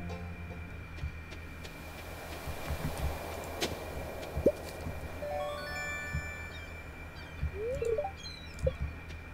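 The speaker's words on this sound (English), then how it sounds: "Seagull." Seagull calls from the video game Stardew Valley, a few short harmonic cries and chirps sounding at moderate distance over a steady, low ambient game background, with no talking.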